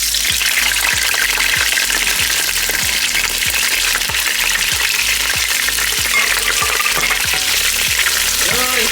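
Shrimp frying in the same hot oil used for a batch of fried rice gives off a loud, steady sizzle that runs throughout, with regular soft low knocks from stirring underneath.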